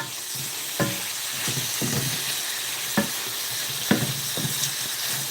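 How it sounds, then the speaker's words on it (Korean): Cream pasta ingredients stir-fry in a pan with a constant hissing sizzle, broken by a few sharp taps and scrapes of the utensil at irregular intervals. "그래서 이렇게 재료들을 어, 볶고 있는 중입니다."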